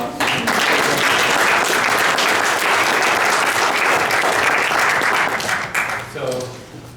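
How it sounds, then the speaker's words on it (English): Classroom audience at an architecture design lecture applauding, a loud sustained burst of clapping lasting about six seconds before tapering off, with a voice emerging at the end. "Let's give them a round of applause."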